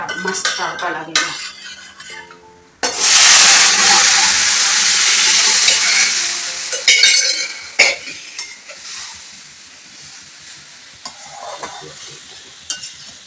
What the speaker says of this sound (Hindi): देखिए आप, मस्त तड़का लगेगा।